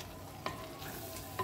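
Boiled eggs being stirred into egg curry masala in a pan, a soft background sizzle with a couple of short spoon knocks and scrapes against the pan.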